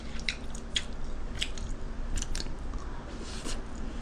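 Someone eats fried rice up close, with a few moist bites and chewing sounds, soft crunches and squishes scattered over a low steady background hum, no talking.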